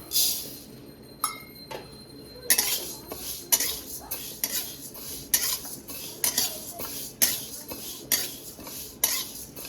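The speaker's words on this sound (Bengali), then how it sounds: "প্রথমে মুগ ডালটা ভেজে নেব শুকনো কড়াইতে মুগ ডালটা ভেজে নেব" Mung dal dry-roasting in a dry kadai, with a metal spatula scraping and clinking against the pan in a rapid, repeated stirring rhythm, close and fairly loud, with no talking.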